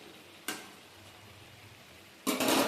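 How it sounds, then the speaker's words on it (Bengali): Chicken sautéing in a pan gives a faint, steady sizzle, broken by two brief louder bursts of stirring or spattering, the second swelling near the end; no talk. "তো ভালো করে চিকেনটা কষিয়ে নেবো"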